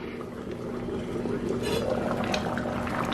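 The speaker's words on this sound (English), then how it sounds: "turn your oven on medium to high heat and let it get to a good hard boil" A pot of seafood gumbo at a hard boil on a stove, giving a steady, close bubbling and gurgling wash with a faint constant hum underneath, continuous for the whole stretch without breaks.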